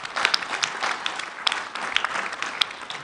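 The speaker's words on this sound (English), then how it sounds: "I think we should clap for them." Attendees at a bank's annual general meeting clap for the shareholders, a moderate round of scattered applause with distinct individual claps standing out in a large room.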